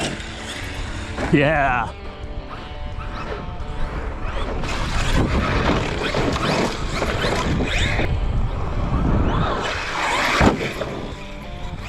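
A Redcat Racing Vigilante 8S basher RC monster truck drives and jumps outdoors, its electric motor whining and surging under a person talking, with a sharp bump near the end.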